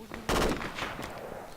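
Burst of gunfire in a military video game, a loud rattling volley that fades into a trailing echo, one short close barrage.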